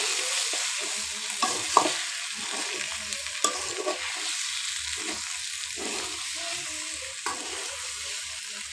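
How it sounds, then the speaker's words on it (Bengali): Mutton pieces sizzle steadily as they fry in a pan for a curry, with brief scraping knocks from stirring breaking through now and then; no one speaks. "এই দেখুন মাংসগুলো এবার ভেজে নিচ্ছি।"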